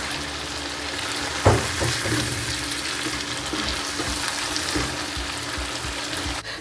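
Mutton karahi fries in a pan, a continuous close sizzle with occasional louder crackles and stirring clatter, no voices.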